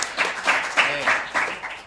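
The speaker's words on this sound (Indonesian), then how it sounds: "Oke, tepuk tangan." Brief audience applause at a stage event in Javanese-speaking Indonesia, a few bursts of claps swelling and fading over about two seconds, fairly soft and somewhat distant, with a voice murmuring underneath.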